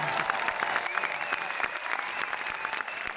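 Audience at a French film premiere in Orléans giving dense, sustained applause, a loud, steady wash of many hands clapping together throughout.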